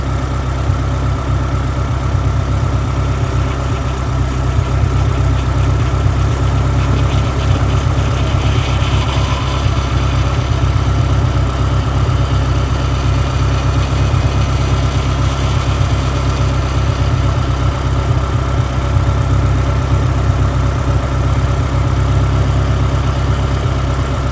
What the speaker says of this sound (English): while she's idling over and getting up to temperature